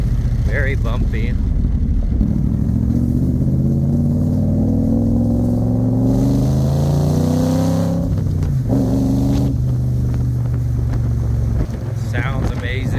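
A 1965 Backdraft Racing Cobra Roadster RT4B GT Black Edition rumbles loudly while driving, its engine note rising and falling through gear changes with wind noise, someone talking over it.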